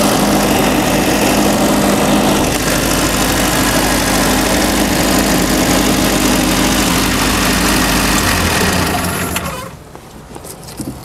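A boat's engine runs steadily during a sea trial, a loud continuous drone with a low hum and vibration for about nine seconds before it drops off sharply.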